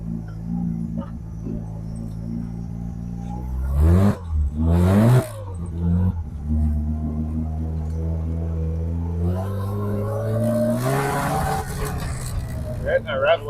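First-generation Mazda RX-7 rotary engine, cold, revving hard in sharp bursts that climb to the rev limiter, then settling and pulling up again in a long rising drone, loud and close with someone talking over it.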